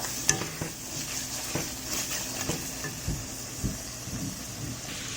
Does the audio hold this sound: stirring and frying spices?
yes